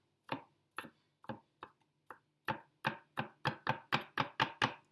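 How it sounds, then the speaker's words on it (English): A knife roughly chops garlic on a board in a run of sharp, close knocks, sparse and uneven at first, then quickening into a steady rhythm of about a dozen strikes. "roughly chop your garlic"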